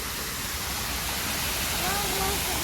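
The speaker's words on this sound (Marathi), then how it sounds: "तो बघा धबधबा हा तिथं" Broad, steady rush of a waterfall in a garden at dusk fills the scene without pause, with a voice faintly heard beneath the roar toward the end.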